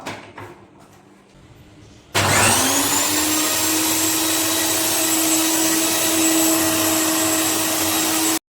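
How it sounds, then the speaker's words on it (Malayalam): An electric mixer grinder blending apple for a milkshake starts up abruptly after a short quiet stretch, then holds a loud, steady whirring drone to the end. "അതിന് ശേഷം മിക്സർ ജാർ അടയ്ക്കുക. എന്നിട്ട് ഇതിനൊന്ന് കറക്കിയിടുക കേട്ടോ."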